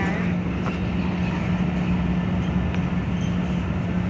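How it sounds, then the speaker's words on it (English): A BNSF freight train passing at close range, a loud continuous rumble with a steady low drone and rattling from the railcars. No one speaks. "Wait, there's another BNSF coming!"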